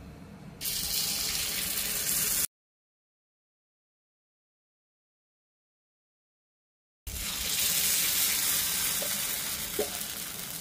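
Appe batter goes into a hot, oiled appe pan with a broad, steady sizzle that cuts off into silence for several seconds, then resumes just as loud with a few small clicks.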